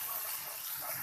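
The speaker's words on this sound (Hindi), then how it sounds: "इसके बाद हमने इसके अंदर तकरीबन 2 से 3 टेबल स्पून के करीब पानी डालना है" Two to three tablespoons of water are poured into a pan of frying ginger-garlic paste, making a steady, close hissing gush that lasts throughout.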